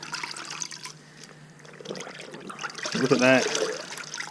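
A dirt bike foam air filter is dipped and squeezed in a bucket of filthy, oily water, giving close, soft sloshing and trickling with a brief wetter gush near the end, under a man's speech.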